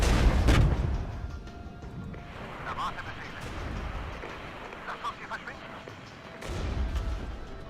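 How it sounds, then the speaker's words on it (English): A heavy artillery strike lands in the Regiments war game: a sharp loud boom opens it, rumbling impacts follow, and a second heavy blast comes near the end. Someone talks over the barrage. "let's just drop some heavy artillery"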